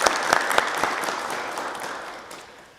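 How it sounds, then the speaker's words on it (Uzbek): Applause for a quiz team that has just scored a point in a Brain Ring game, steady clapping from a studio audience with a few sharper claps up front, fading out toward the end. "Jamoani yana bir bora olqishlaymiz."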